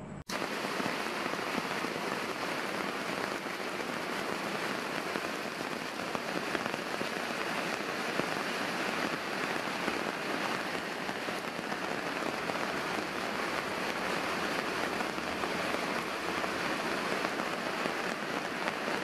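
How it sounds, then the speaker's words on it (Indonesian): Steady rain falls on an outdoor chili-growing plot with capillary fertigation beds, a dense, even hiss of drops on surfaces lasting throughout, with no voices. "Hujan ya kawan,"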